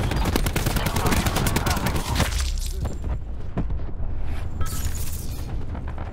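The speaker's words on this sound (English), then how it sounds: "We're taking rapid fire. Taking fire." Dense, rapid gunfire and explosions roar continuously in a Call of Duty: Black Ops 4 multiplayer match, loud and chaotic at first, then thinning into scattered bursts and booms.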